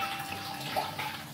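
Yellowtail rosé wine pours into a punch of lime, elderflower and gin, a brief soft liquid trickle and splash heard up close with no voices.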